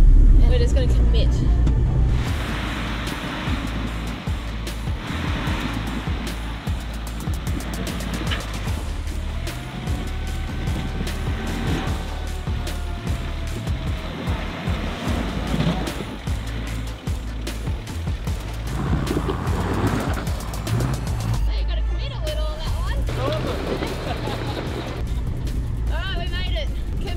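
A 4WD with reductions and twin lockers grinds up a slippery hill in second gear, its engine droning steadily and loudly inside the cabin while people talk over it.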